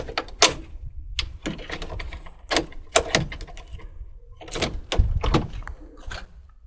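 Sharp metallic clicks and rattles of a Mul-T-Lock key working a shed padlock, irregular bursts close to the mic, no voices.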